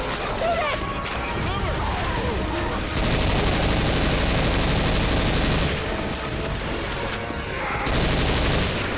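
Rapid gunfire aimed at the Tank in the video game Left 4 Dead 2, loud and continuous bursts of automatic and shotgun fire with crashing impacts, sustained throughout with brief shifts in intensity.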